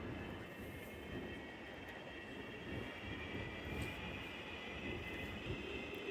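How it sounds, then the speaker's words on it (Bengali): A metro train draws into a station, its hollow rushing roar and a high whine building steadily and filling the platform, moderately near and without talk. "অবশেষে মেট্রো চলে আসছে"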